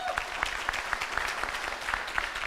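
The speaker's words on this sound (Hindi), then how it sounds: "इनके लिए भी जोरदार ताली बजाई" Audience applause at a business gathering, steady moderately faint clapping from a crowd with a few distinct nearer claps standing out in an uneven rhythm, with no talk over it.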